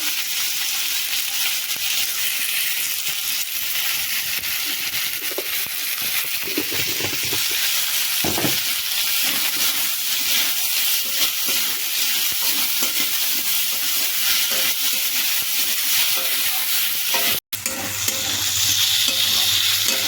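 Potatoes and onions fry in a pan for a Bengali dried-fish curry, giving a loud, continuous sizzle with scraping stir strokes now and then and a brief break near the end.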